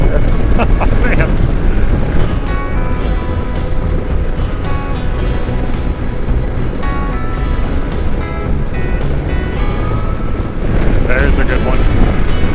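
Strong wind roaring steadily against the microphone by the sea, a loud continuous rumble with surf-like surges beneath, while people talk in the background at times.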